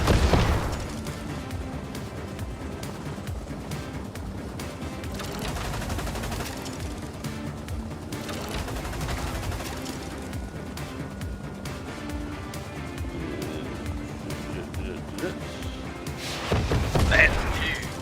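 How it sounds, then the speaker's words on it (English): Incendiary rockets from a helicopter in a combat video game hammer SAM sites, with long stretches of dense, rattling gunfire and booming impacts and a louder burst near the end, while voices talk underneath. "the incendiary rockets kill those SAMs so quickly"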